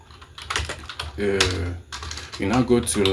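Quick bursts of typing on a computer keyboard while configuring a Cisco switch in Packet Tracer, clicky keystrokes in short clusters close to the mic, mixed with someone talking over them.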